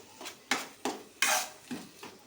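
A ladle stirs an onion curry mixed with chavanu in a pot, giving about six distinct scraping strokes in an uneven rhythm at moderate volume against a faint sizzle.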